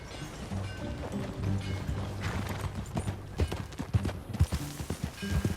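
Horse hooves clip-clopping as a rider travels in Red Dead Redemption 2, a steady run of close, distinct hoof strikes over soft ambient background, growing more pronounced toward the end.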